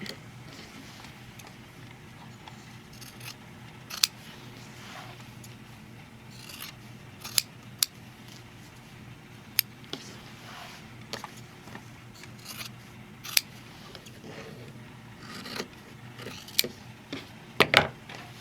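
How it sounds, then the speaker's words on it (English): Quiet scissor snips cut through fabric in scattered bursts, with sharp clicks of the blades over a soft room hush. "I'm going to grab a pair of scissors and we're going to cut that out."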